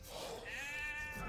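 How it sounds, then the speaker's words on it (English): A sheep bleats in Age of Empires 2, a short wavering bleat over faint game background, quiet and close. "Sheep are getting killed all the fuck over the place."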